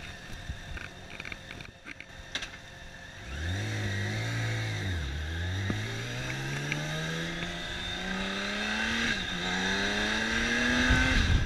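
A big BMW motorcycle rides along a road, its engine note rising steadily as it accelerates through the gears, with a brief dip between pulls, loud and close under steady wind noise.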